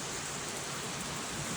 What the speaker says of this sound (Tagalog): Ayan ang ulan. Malakas ang ulan.